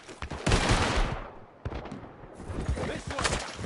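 Gunfire in Red Dead Redemption 2 during a chapter 6 shootout, loud rapid shots and bursts mixed with in-game voices shouting.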